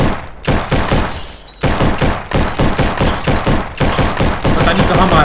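Rapid bursts of loud, close video game gunfire, crackling shots in quick rhythmic volleys separated by short pauses and building into sustained rattling fire.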